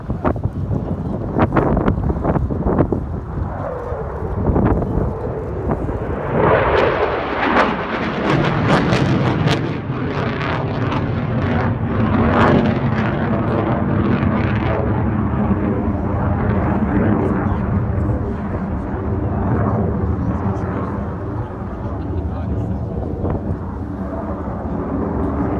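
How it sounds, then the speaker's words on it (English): A Eurofighter Typhoon at a Battle of Britain Memorial Flight air display accelerates and pulls into a vertical climb, a loud roaring jet rumble with wind buffeting that sweeps and fades into a sustained distant thunder. "accelerates the aircraft up to 550 knots before he departs into vertical"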